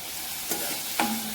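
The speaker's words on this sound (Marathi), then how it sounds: "कांदा आणि वाटाणे आता आपण फोडणीमध्ये असे परतून घ्यायचे." Onion and peas stir-frying in a cumin and mustard seed tempering for vangyache bharit, a steady close sizzle broken by two short stirring scrapes, with no voices.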